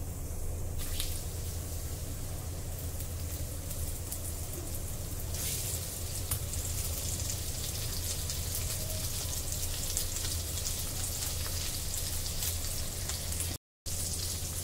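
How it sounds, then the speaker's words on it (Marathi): Mackerel frying in hot oil on a hot tawa, a dense, steady crackling sizzle that holds at an even level almost the whole time, with a brief dropout near the end. "तेल मस्त तापलेलं आहे, आता हे बांगडे आपण त्यामध्ये घालू।"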